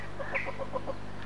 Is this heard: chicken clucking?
yes